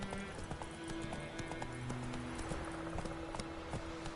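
Hooves of Roach the horse galloping in The Witcher 3, a quick regular clip-clop rhythm over a continuous faint game background, no talking.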